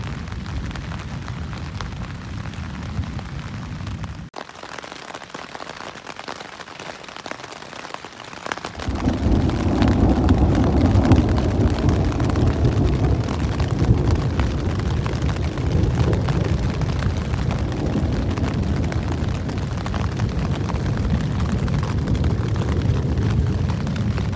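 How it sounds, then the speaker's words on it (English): Rain falls steadily on a tent at Little Todd Harbor campground on Isle Royale during a storm, a constant hiss that swells louder partway through, with deep low rumbles of distant thunder underneath. "it's still raining. It's still getting thunder occasionally"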